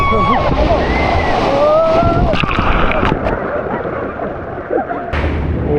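Rough open-sea waves churn and slosh against a moving boat near Cadlao Island, El Nido, Palawan, with strong wind buffeting the microphone throughout, loud and continuous.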